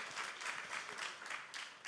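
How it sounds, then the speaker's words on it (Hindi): Crowd applause at a TV9 Global Summit session, a dense, even wash of clapping heard faint and distant, with no talking over it. "अगर ऐसा नहीं है तो फिर तालियां जोरदार होनी चाहिए प्लीज"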